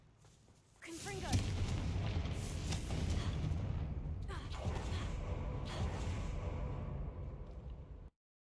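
A Confringo fire spell in Hogwarts Legacy bursts with a sudden loud blast, then a sustained roaring, crackling rumble of fire and combat noise that holds steady for several seconds before cutting off abruptly.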